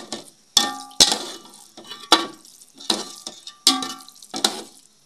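Cream frying down into desi ghee sizzles in a pan while a spoon stirs it, and repeated sharp clanks and scrapes against the metal land roughly every second, close up over a soft bubbling sizzle.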